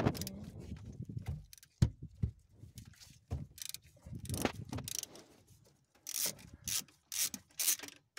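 A 13 mm ratchet wrench works loose a bolt on a car bracket near the transmission, giving short bursts of clicking and scraping metal that stop and start irregularly, with gaps of quiet between strokes.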